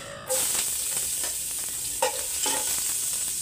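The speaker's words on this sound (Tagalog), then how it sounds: "So, gigisa po tayo." Garlic and onion sizzle loudly in a pan while being stirred, a continuous close frying hiss with scraping utensil strokes, no one talking.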